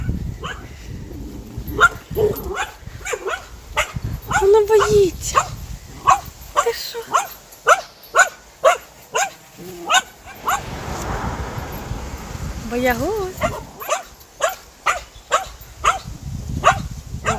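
A small dog barks in quick, yappy bursts, close by, while several people talk and laugh over it.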